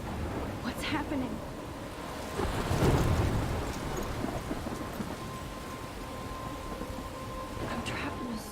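Thunderstorm in the Life is Strange video game: steady rain patter with a swelling roll of thunder in the middle, and occasional distant rumbles throughout.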